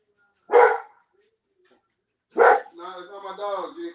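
A dog barks twice, sharp and close, with a long pause between the barks, followed by a whiny, drawn-out vocal sound.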